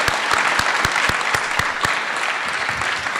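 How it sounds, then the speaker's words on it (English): Audience applauds at a university flight academy graduation ceremony for a program staff member, steady dense clapping with a few sharp nearby claps standing out, no voices. "I'd be remiss if I didn't give Mr. Chris Hartman a special round of applause"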